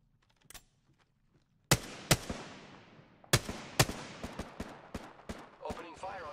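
Apex Legends gunfire: after a near-silent start, a few sharp, loud shots ring out, then a rapid, irregular string of cracks with trailing echoes.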